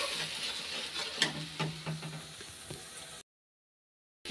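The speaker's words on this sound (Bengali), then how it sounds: "তো মশলাটা ভালো করে একটু কষিয়ে নিই" Spice paste with roasted ground cumin frying in a pan, a soft continuous sizzle broken by sharp clinks and scrapes of a spoon stirring against the metal, then a sudden cut to silence.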